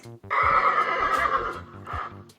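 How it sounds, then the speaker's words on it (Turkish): A horse whinnies loudly and near, one long shrill neigh trailing off into softer breathy snorts. "Bu bir at."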